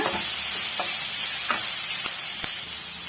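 Curry leaf chutney ingredients sauté in a hot pan with salt, a steady close sizzle broken by several sharp scraping stirs of a spoon.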